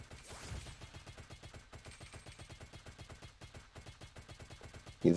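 Rapid rhythmic gunfire in the bullet-hell game Burst Witch repeats steadily for several seconds at a moderate level, ending in a brief louder burst.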